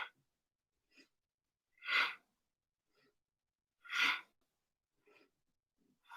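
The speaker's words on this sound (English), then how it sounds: "You should hear both your inhales and your exhales." Forceful, audible breaths during a chair yoga practice, two strong airy exhales about two seconds apart with softer inhales and lighter breaths around them, close and otherwise quiet.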